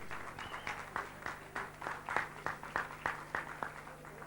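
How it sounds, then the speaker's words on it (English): An audience gives a round of applause to a band at a 1989 Victoria show, a moderate crowd clapping with sharp individual claps in a fairly steady rhythm over a low hum. "I think we should give them a round of applause."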